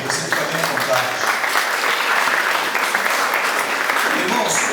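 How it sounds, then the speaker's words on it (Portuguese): A church congregation at a worship service applauds steadily for several seconds, a dense continuous wash of clapping from many people filling the room. "Pode aplaudir, você fica bem à vontade."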